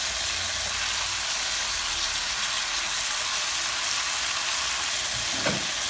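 Capers fry in a hot skillet, giving a steady, close sizzle and hiss that holds for the whole stretch, with a brief sharper crackle near the end.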